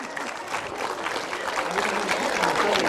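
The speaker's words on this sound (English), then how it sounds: "Big round of applause for him, even if he did try to hand it off." Audience applause for the Slop The Hogs champion at a 2013 Ham Days festival contest, a steady wash of clapping from a crowd lasting throughout at an even, moderate level.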